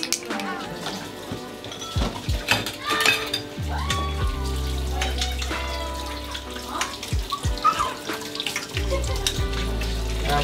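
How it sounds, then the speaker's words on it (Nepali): Dishes are washed under a running kitchen tap at home, with water gushing in bursts while plates and utensils clatter and clink up close, the flow stopping and restarting several times. "भाँडा सबै माझेछु"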